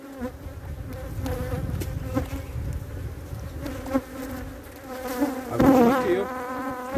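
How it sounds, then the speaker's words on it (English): Agitated honeybees at a hive give off a dense, continuous close-up buzz that swells and thickens toward the end, with no talking over it. "Let me see if I can calm down these bees a little bit"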